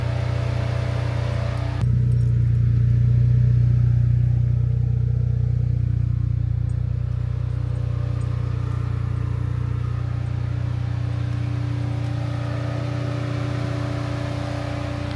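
A tuned Chevy Cruze on its second engine runs loudly, a heavy steady drone that swells sharply early on, then settles into a constant rumbling idle close by with no talk.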